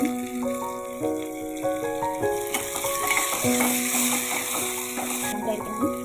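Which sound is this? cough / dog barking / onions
onions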